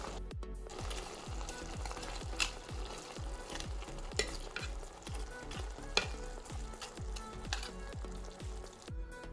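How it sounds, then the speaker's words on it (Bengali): Fish head and tail frying in a pan with bottle gourd crackle in a loud, continuous sizzle, with a regular thud of stirring running through it. "একটু নরম হলে আমি দিয়ে দিলাম মাছের মাথা আর লেজ।"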